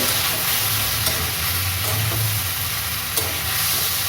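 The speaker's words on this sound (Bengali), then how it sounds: "মশলা যেহেতু একটু অ্যাড করেছি ভালো করে আবার নাড়িয়ে চাড়িয়ে" Winter vegetables frying with turmeric and Kashmiri chilli powder while being stirred, a loud steady sizzle and hiss with occasional spatula scrapes, close up.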